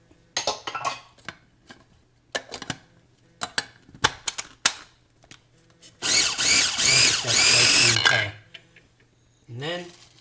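A food processor pulses spring onion pesto with olive oil, a loud sustained whir for about two seconds after scattered clicks and knocks of the lid and bowl, ending with a brief shorter burst.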